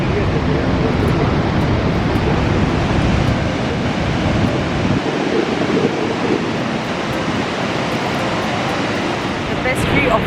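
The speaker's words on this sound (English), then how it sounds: "Here's a view of this Niagara Falls." Niagara Falls roars in a steady, dense rumble of falling water that holds its level throughout, loud and continuous and mixed with some wind buffeting the microphone.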